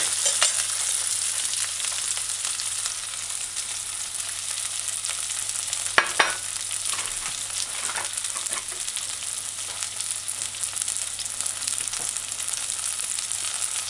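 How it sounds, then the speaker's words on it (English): Sweet potato stir-fries with mashed garlic in a hot pan, giving a loud, steady sizzle and hiss throughout, with occasional faint stirring scrapes. No voices are heard. "stir fry it in, and now you can add the garlic, the mashed garlic"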